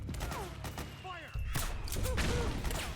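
Soldiers in Metal Gear Solid 4 fire in bursts and scattered shots, loud and close, under shouting voices and game effects.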